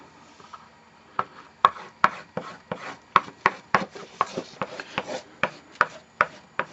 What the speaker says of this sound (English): squeegee the glue underneath out to the edges to make sure everything gets sealed well and it's nice and smooth